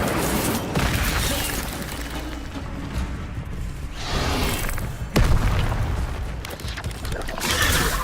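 A fire spell cast during combat in the video game Hogwarts Legacy, heavy booming blasts and bursts that keep overlapping, with a sharp crack near the middle and dense magical battle effects throughout.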